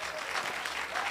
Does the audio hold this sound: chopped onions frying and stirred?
no